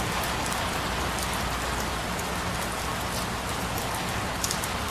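Steady rain falls over the flooded llanos in the rainy season, a dense, continuous, even hiss of drops that stays close and loud throughout, with no voices.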